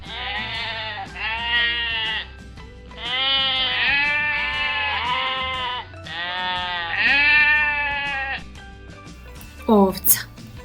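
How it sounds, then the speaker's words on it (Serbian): A sheep bleats repeatedly in several long, wavering calls close by, followed by a brief sharp sound at the end. "Ovca."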